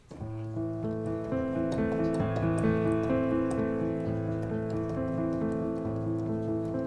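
Piano improvisation pattern on white keys shifted lower down the keyboard, a continuous flow of sustained, overlapping notes with regular rhythmic strikes, close and alone.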